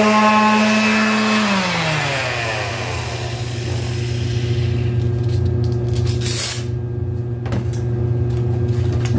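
A power sander fitted with 220 grit paper runs against a plexiglass panel for an e-bike battery box, giving a loud, continuous motor whine that spins down in pitch before settling into a steady grinding hum.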